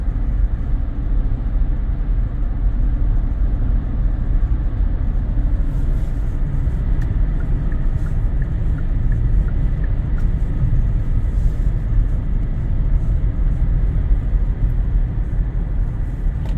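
Steady low road rumble and tire noise from a Kia EV6 electric car on new tires cruising along a highway, a continuous broadband roar heard from inside the cabin with no engine note.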